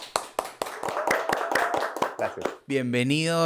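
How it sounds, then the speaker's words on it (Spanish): Quick, sharp hand claps from a small group ring out for a couple of seconds, then a voice begins speaking close by. "Por favor, un aplauso."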